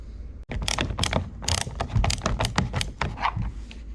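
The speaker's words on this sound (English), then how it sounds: "you have to remove that screw." Screw being backed out of a Jeep Compass window switch panel, a dense run of close ratcheting and clicking tool sounds with small metallic taps, steady and busy throughout, no talking.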